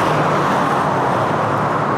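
Traffic on a main road in Japan gives a steady, dense roadway rumble of passing cars, fairly loud and continuous with no voices.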